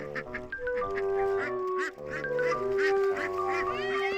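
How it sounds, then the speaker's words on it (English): Several ducks quacking busily at close range with overlapping calls, at a wading pool on a hot day; splashing is not clearly distinct. "Ducks love to swim and splash."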